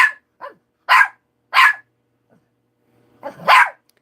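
A dog barks close and loud, with several sharp single woofs and a smaller yip separated by silent gaps, ending in a final louder bark.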